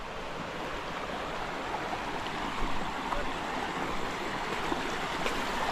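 Broadband rushing water from Sala Waterfalls sounds steady and continuous for the whole stretch, a dense even wash with no pauses.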